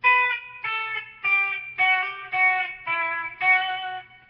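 Electric guitar picks out the opening measure of a song's intro: seven clearly separated melodic notes in a steady rhythm, each sustained and ringing, with nobody talking.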